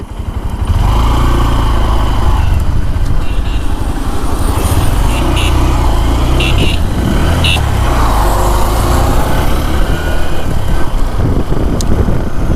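A 2026 Honda SP125 motorcycle engine starts and settles into a loud, steady idle close by, with a few throttle blips rising in pitch.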